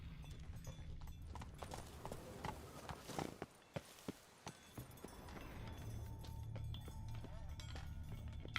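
Roach the horse gallops in Witcher 3, quiet rhythmic hoofbeats clopping at a steady pace, broken by a few louder thuds midway, with faint game ambience around.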